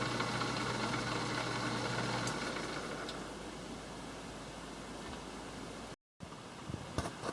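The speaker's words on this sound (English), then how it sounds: "I'm going to turn a wooden handle on my lathe" A wood lathe turns a handle from a piece of ash, giving a steady motor hum with broadband cutting noise that continues for several seconds before a brief gap and a few faint knocks.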